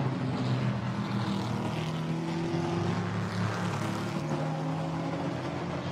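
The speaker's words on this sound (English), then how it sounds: "Nikolai Moller-Madsen, 21 Porsche, up into fifth, giving chase and trying to pick his moment" GT4 race cars, including Porsche and Camaro, drone past at Zandvoort in the distance as a steady, muffled layered engine roar with rising and falling tones and no talking.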